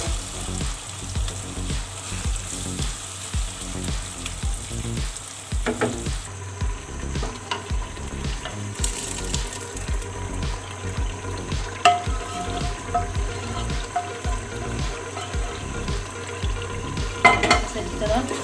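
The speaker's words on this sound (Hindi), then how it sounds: "इससे अब हम डाल देते हैं इस गोश्त वाले कुकर में।" Tomatoes tip into meat in a pressure cooker while cooking achar gosht, bringing a loud continuous oily sizzle with stirring scrapes and occasional utensil clinks, with no talk.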